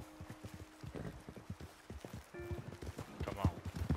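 Horses walk with steady, moderately paced clip-clop hoofbeats in Red Dead Redemption 2 video game, close and fairly soft, with voices talking over them.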